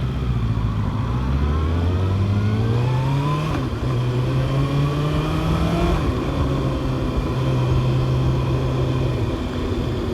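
A Kawasaki Ninja 650 motorcycle rides past, its engine note rising and falling through gear changes in a steady, continuous drone over the steady roar of surrounding traffic.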